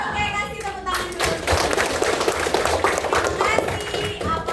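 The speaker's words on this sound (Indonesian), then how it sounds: "Oke, kasih tepuk tangan dulu." A classroom of students claps together in a burst of irregular, fairly close hand claps that fill the room.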